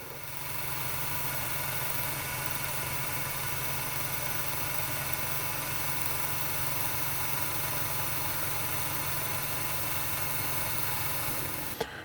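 A coil winder spins steadily while winding pickup coils for a 1950s Gibson P-90 converted to a PAF humbucker, giving an even, continuous motor hum and whir with no speech, ending in a small click.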